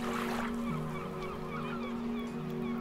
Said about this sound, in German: Die Rufe der Möwen werden etwas lauter.